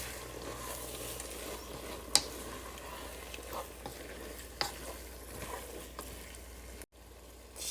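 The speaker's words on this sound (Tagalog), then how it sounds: "Ilagay na po na natin ang munggo. Alright. Halu-haluin lang." Mung beans stirred in a pan for ginataang monggo with dilis, a steady close scrape and gentle sizzle running throughout, with a sharp click near the two-second mark and a brief dropout just before the end.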